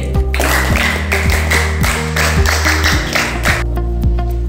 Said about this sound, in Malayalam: പിന്നെ 2ാം സ്ഥാനം കരസ്ഥമാക്കിയ വൈകീശന് നല്ലൊരു കയ്യടി